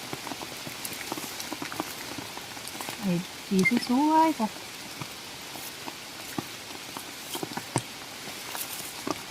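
Heavy rain falls steadily while termite mushrooms are gathered outdoors, a constant dense patter of drops on surfaces with someone speaking briefly partway through.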